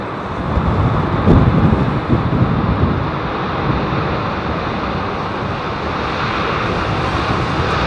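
An airliner landing at London Heathrow in windy weather, a broad continuous roar of engines and reverse thrust swelling early and then holding steady under heavy wind noise on the microphone.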